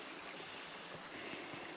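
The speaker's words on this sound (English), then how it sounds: "creek there that's flowing into Raven Creek" Faint, steady trickle and rush of a small creek flowing into Raven Creek near Raven Cliffs Falls in Georgia, a soft continuous water murmur heard from a hiking trail.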